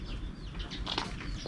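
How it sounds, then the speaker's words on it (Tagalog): Pigeons kept for breeding flap their wings in flight nearby, a soft, quick fluttering of wingbeats with faint chirps mixed in. "Kasi apat pa lang yung napapakawalan natin and then lumilipad dito."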